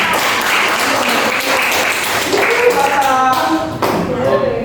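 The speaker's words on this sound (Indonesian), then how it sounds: "Tepuk tangan dulu." Classroom applause from a group of students, a dense steady patter of many hands clapping throughout, with some voices and chatter mixed in near the end.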